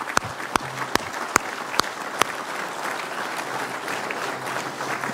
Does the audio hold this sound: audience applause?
yes